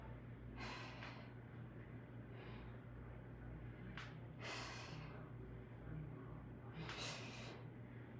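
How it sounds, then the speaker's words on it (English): Sharp, deep breaths during a HIIT workout, a few quick airy inhales and exhales spaced a second or two apart, close and breathy over a low steady hum. "Deep breath."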